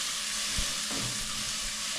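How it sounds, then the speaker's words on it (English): Onion frying in a pan, a dense continuous sizzle held steady throughout with a faint knock or stir partway through, no speech over it. "So now we are cooking our onion."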